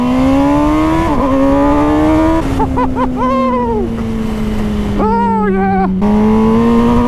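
A 2020 MV Agusta Brutale 1000 RR, a 208 horsepower naked motorcycle, accelerating on the road: the engine note climbs steadily and strongly over heavy wind noise, and the rider briefly exclaims.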